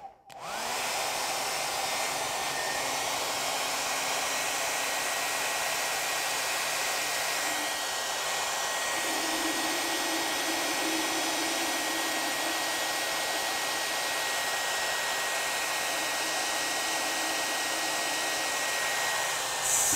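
A vacuum cleaner runs indoors with a steady, loud, continuous whine and drone that holds unbroken for the whole stretch, with no talk over it.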